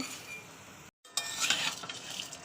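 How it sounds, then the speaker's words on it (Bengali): Thick vermicelli (semai) frying in a pan, soft sizzling with scraping stirs and light metallic clinks of a spatula, close and fairly quiet, with a short gap before the stirring resumes more busily. "এটা ভালো করে ভেজে নেব"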